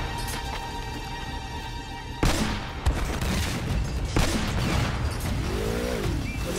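Explosive blasts from Elena's rocket launcher in Uncharted: Drake's Fortune, with sharp loud booms cutting through steady background gunfire and clatter, followed by a few more scattered impacts.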